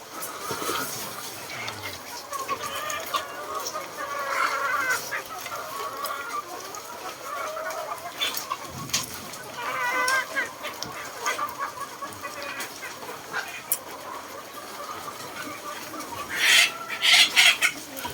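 A flock of chickens clucks busily at feeding time in a backyard pen, with overlapping calls close by and a few louder squawks near the end.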